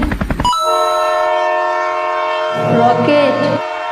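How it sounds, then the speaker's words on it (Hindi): A cartoon train effect. A burst of rapid chugging cuts into a long, loud, sustained horn blast, with a brief louder swell near the end. It is heard close up, and no one is speaking. "ट्रेन,"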